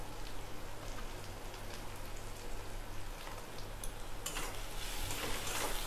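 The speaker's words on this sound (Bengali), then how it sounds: "ভালো করে নাড়াচাড়া করে নেব।" Green chillies, chopped tomato, red chilli powder and turmeric frying together in a pan produce a dense, steady hiss like rain, with faint stirring scrapes growing a little busier toward the end, close and without voices.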